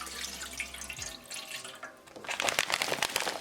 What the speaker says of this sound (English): We're going to get 1 cup water and we'll put the water inside.